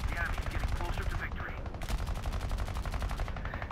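Aircraft guns fire in a video game as a B-29 bomber fights among rocky pillars, with dense rapid machine-gun bursts over a constant loud engine drone.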